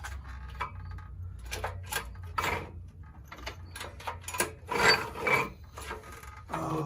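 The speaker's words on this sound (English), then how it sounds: "Maybe give it a spin, see if anything grinds. I'll just spin the shaft," The shaft of a 420cc go-kart engine is turned by hand, giving a series of dry rasping, scraping strokes with irregular gaps, close and fairly quiet.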